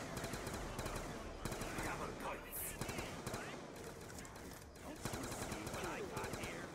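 Black Ops 2 Zombies on the Buried map: rapid gunfire pops steadily through a busy, noisy mix, with steady shots under a continuous rumble of game sound.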